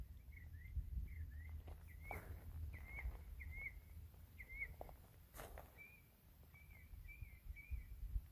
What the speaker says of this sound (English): A lot of bird sounds